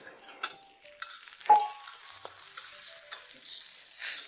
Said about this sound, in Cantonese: 咁咧就可以辣啲油，然之後咧爆香嗰啲辣椒佢